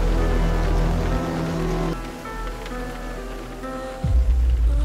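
Steady rain falling on a car in a film scene, a dense continuous hiss with low rumbling undertones and a sudden deeper shift near the end, loud and filling the scene without speech.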